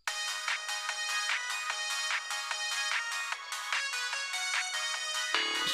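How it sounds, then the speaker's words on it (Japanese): A mobile phone ringtone plays a popular song as a bright, tinny, steadily repeating melody, loud and close, cutting off abruptly at the end with no voices over it. "ゲイラスコに着メロ入れてもらったんだよ。"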